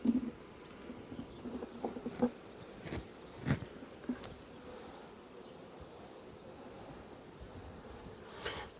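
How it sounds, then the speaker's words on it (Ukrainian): Honeybees buzz in an opened hive box during a beekeeping inspection, a low steady hum with occasional clicks and knocks of frames nearby. "Перший корпус з бджолою."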